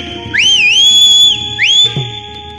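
Two loud, clear whistle blasts sound as a warning signal, the first long and wavering, the second shorter and rising, close and alone over a faint background.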